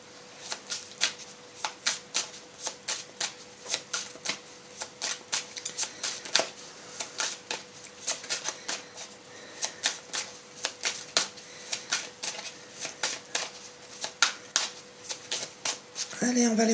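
Tarot cards are shuffled in a steady series of quick riffling bursts, dozens of crisp snaps repeating at a regular rhythm, close and fairly quiet, with a faint voice near the end.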